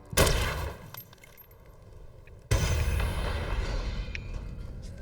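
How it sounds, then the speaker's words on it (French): Explosion in the video game Dead Island: a sharp blast opens, fades into rumbling debris, then a second heavy boom hits and rolls on loudly with crackling aftermath. "Cette explosion."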